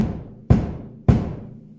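Kick drum of a drum kit played with a foot pedal, three deep booming thumps about half a second apart, each ringing out low and close with no talking.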